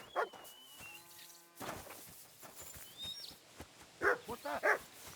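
A dog in Kingdom Come: Deliverance 2 gives a few sharp, close barks amid faint game ambience, with short whimpers and bird chirps between them.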